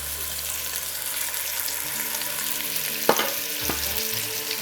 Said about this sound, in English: we're just going to brown these